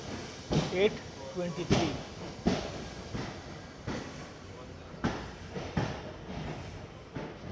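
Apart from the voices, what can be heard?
train departing from Subrahmanya Road station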